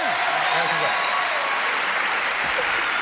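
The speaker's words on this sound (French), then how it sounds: "Applaudissements pour Brigitte Fossé qui en a bu 2 gorgées." Steady studio audience applause on a French television talk show, a dense continuous clapping that fills the whole moment at a constant level, with a voice or two briefly audible underneath.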